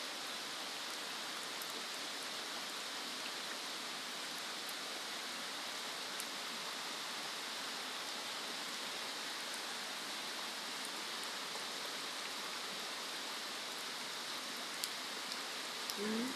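Steady rain pours down outside a rural house beside a canal, a continuous broadband hiss with scattered drop patters, unbroken for the whole stretch and with no voices.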